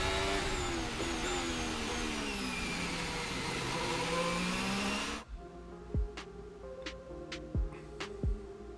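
A Formula 1 car engine screams at high revs in onboard footage, loud and continuous with sweeping pitch for about five seconds, then cuts abruptly to a quieter stretch broken by a few sharp knocks.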